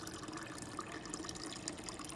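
Water poured into a glass for drinking, a steady close liquid splash and trickle running throughout without a break.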